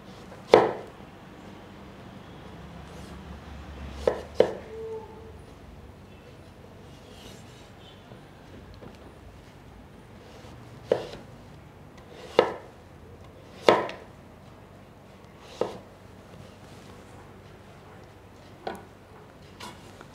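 A knife slices a carrot into thin slices about one centimetre thick on a cutting board. Sharp chops land one at a time at irregular intervals, close and distinct, with quiet pauses between them and no talking.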